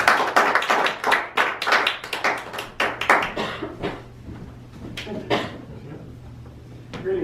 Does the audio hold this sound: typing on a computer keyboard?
no